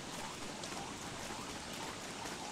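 Steady rainfall in the video game Don't Starve, a soft continuous hiss of falling rain that holds evenly throughout at low volume, with no voices.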